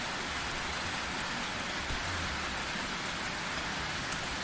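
Steady rain falls outside as a dense, even hiss that fills the whole stretch at moderate level, with a few faint drop ticks and no voices.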